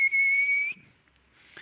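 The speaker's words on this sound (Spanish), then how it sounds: "Sabemos que la olla de presión está ahí silbando, ¿verdad?" A pressure cooker whistles in a home kitchen, giving one loud, steady, high-pitched tone for about three-quarters of a second before it cuts off, leaving quiet with faint clatter.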